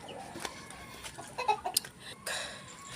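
Chickens clucking near rows of chicken coops on a rice farm, faint scattered clucks and short calls over a quiet outdoor background.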